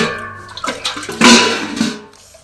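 Water poured into strained curry leaf, coconut and ginger juice, making a short, close splashing gush that swells and then tapers off.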